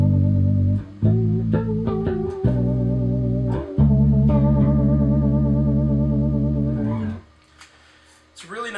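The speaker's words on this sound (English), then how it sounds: "It's a really nice effect, and I just find that when you're playing harmonics with the BYOC, they sound a little warmer" An electric guitar runs through a BYOC clone of the BOSS VB-2 vibrato pedal, playing sustained notes and chords with a wavering pitch, then a few chiming harmonics as the sound fades out near the end.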